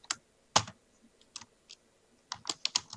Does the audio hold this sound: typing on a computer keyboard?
yes